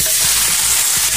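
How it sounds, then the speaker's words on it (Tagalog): Close, loud crackling sizzle of garlic frying in hot oil in a pan, steady and continuous. "lutuin lang natin itong garlic hanggang siya mag-golden brown siya"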